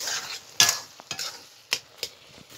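Garlic frying in a pan while being stirred during preparation of a village-style taro flower dish, heard as a bright sizzle with several sharp utensil scrapes and clinks, close and fairly loud, with no voices.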